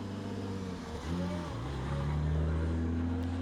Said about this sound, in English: you'll see Michael Purcell's car now coming down the straight.